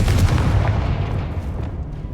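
The Confringo blasting spell from the wizarding game Hogwarts Legacy goes off in one heavy, booming explosion already underway, its rumble fading gradually with no voices present.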